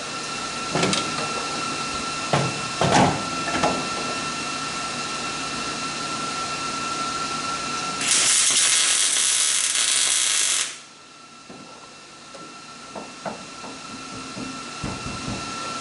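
Metal being tack welded in a workshop, a single loud buzzing crackle lasting about three seconds, preceded and followed by scattered clanks and taps of metal parts.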